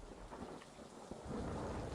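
Rain falls steadily in the Inner Demons video game while low thunder rolls and swells, growing louder toward the end, with no voices present.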